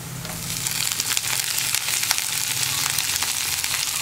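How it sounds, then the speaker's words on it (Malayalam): Curry leaves and coconut pieces sizzle steadily in a pan while being stirred for kadala curry, a continuous close frying hiss with faint scraping throughout. "ഇനി നമുക്ക് ഇതിലേക്ക് കറിവേപ്പിലയും കൂടി ചേർത്ത് കൊടുക്കാം"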